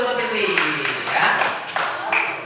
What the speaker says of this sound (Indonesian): Tepuk tangan dulu untuk Fitri ya.